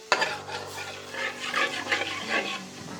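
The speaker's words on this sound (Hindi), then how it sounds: "अब दूध के साथ हम इनको अच्छी तरीके से फ्राई करेंगे।" Soaked moong dal is stirred and fried with milk in a pan, a brief close burst of wet scraping and bubbling sizzle after a sharp initial clunk.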